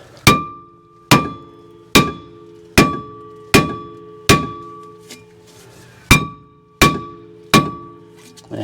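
A hammer strikes a corroded front brake rotor on a Mercedes-Benz Sprinter 2500 passenger van, ten loud metallic whacks at a steady, slightly uneven pace, each with a ringing ring-out.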